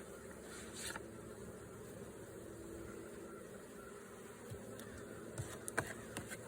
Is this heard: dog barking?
no